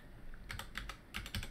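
Soft keystrokes on a computer keyboard, a few quiet clustered taps in two short bursts against a faint steady background hum.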